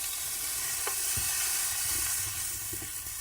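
Tofu stir-frying in a frying pan gives a steady, close sizzle and hiss throughout, with a few soft stirring scrapes and clicks and no talking.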